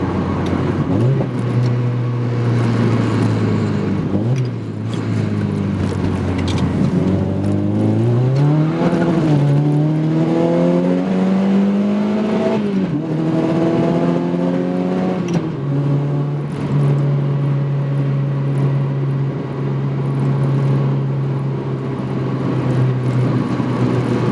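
A 210hp NC Mazda Miata with a swapped 2.5L engine, 4-to-1 header and stage 1.5 cam accelerates hard, its loud engine note climbing in pitch, dropping at shifts and climbing again, then settling into a steady drone.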